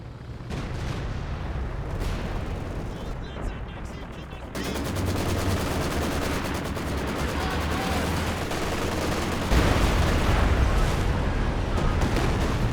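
Gunfire from a Company of Heroes 2 4v4 match, with dense rapid bursts of machine gun fire and other weapons rattling steadily and loudly, overlapping into a continuous battle din that grows heavier toward the end.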